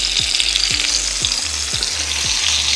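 A trout fillet sizzles steadily in a hot pan, with a series of soft regular knocks as it is handled and flipped, no voices over the frying.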